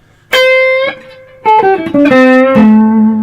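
Electric guitar string bends played with blues expression, including a small quarter-tone curl: several sustained bent notes glide in pitch, one held alone, then a run of shorter notes sliding down to a final held tone, loud and close with no talk.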